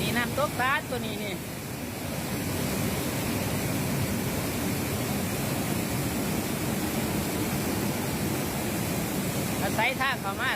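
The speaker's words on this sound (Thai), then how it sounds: "นี่น้ำตกตาดตัวนี้นี่" Tat waterfall in Sekong, Laos roars with a steady, broad rushing of water close by, while people talk briefly at the start and the end.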